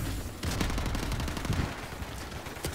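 Rapid automatic gunfire in Call of Duty: Modern Warfare Remastered, several dense bursts of shots crackling close and loud, with brief gaps between volleys and no talking.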